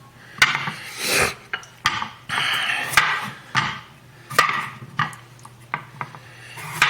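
A knife cuts potatoes on a cutting board in a kitchen, a series of close, sharp thuds and scraping slices coming at irregular intervals with no talking.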